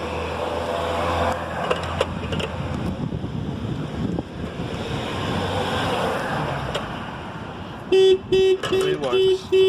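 A 2014 Honda Civic's car alarm, triggered by a Laserline 848 tilt sensor as the car is lifted, blares in loud repeated electronic pulses for the last two seconds, after a long stretch of gusty outdoor wind rumble.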